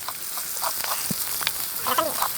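Cumin seeds and onion with a little green chili crackling in hot oil in a clay kadhai over an outdoor wood-fired chulha in the forest; close, lively sizzle with sharp pops and a stirring scrape, no talk.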